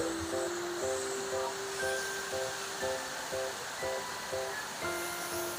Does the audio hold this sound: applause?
no